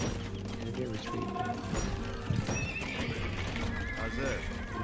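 Cavalry horses in a strategy video game whinny and neigh over a continuous bed of galloping hoofbeats and clip-clop, with occasional crashes and clatter mixed in throughout.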